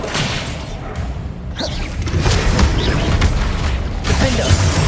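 A Bombarda blast spell from Hogwarts Legacy going off amid combat, with heavy booming thuds, whooshes and mechanical clatter, loud and continuous with a surge in the second half.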